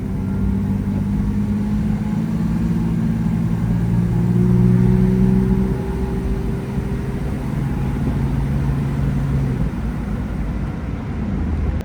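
A Toyota Land Cruiser 80 series engine pulls steadily uphill under acceleration, a loud, continuous low drone with rising tones that swell around the middle and hold through to the end, with no talk over it.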